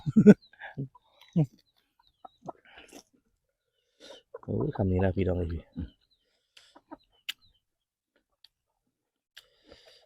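Chickens cluck in scattered, sharp bursts around a quiet farmyard, with someone talking briefly nearby.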